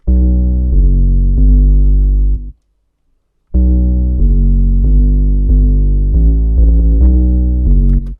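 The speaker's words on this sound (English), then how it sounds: "this is what the 808 sounds like just by itself." Deep, booming electronic bass notes play alone in a steady pattern, loud and sustained, stopping for a second of silence before resuming.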